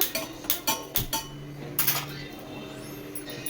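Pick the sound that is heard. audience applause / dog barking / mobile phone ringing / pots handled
pots handled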